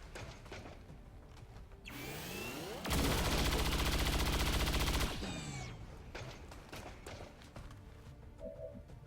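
A sci-fi weapon firing in XCOM 2, a loud sustained blast with a rising charge-up whine before it and a falling whoosh after, followed by scattered quieter impacts.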